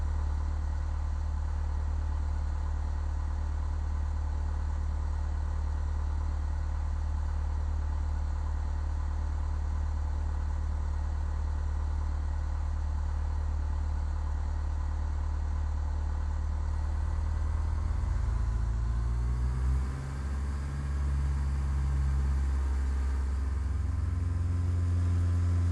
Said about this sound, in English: To start the engine, press Ctrl E.